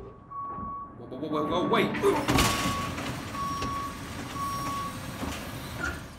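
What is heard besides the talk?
garbage truck reversing beeps in cartoon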